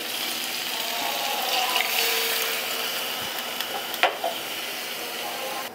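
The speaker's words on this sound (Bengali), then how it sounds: "এবার আমি দিয়ে দিচ্ছি বেশ খানিকটা জল।" Water poured into a pan of well-browned spiced meat, a steady broadband hiss and sizzle running throughout with a couple of brief clinks near the end, no talking.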